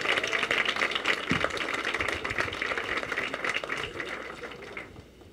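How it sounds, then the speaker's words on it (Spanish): Audience applause for a speaker at a university presentation event in Puebla, a steady wash of clapping from many hands that holds for several seconds and then fades toward the end. "Un aplauso para Yadira."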